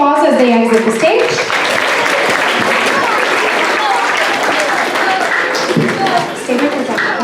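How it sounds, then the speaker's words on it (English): Audience applause for a front row of students leaving the stage at a school ceremony, a loud, dense wash of clapping that runs steadily throughout, with a voice talking over it at the start. "let's give this front row a big round of applause as they exit the stage"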